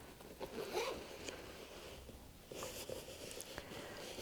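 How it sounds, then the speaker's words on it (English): Zipper on the pocket of a 26-year-old luxury handbag with nylon lining, pulled in a few quick, scratchy rasps close up and fairly quiet, with short pauses between strokes. "very noisy zip"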